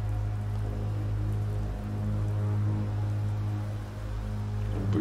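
Rain in the horror game The Beast Inside falls steadily as a continuous soft hiss of drops striking surfaces, with a low background hum underneath and no voices.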